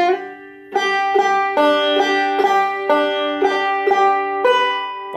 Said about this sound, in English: Reverse diagonal, reverse roll.